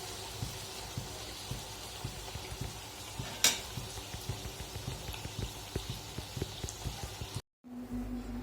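Luchi, puffed flatbreads, frying in hot oil: a steady crackling sizzle with many small pops and bubbling bursts, one sharper spike partway through, then a brief cut to quieter hiss near the end.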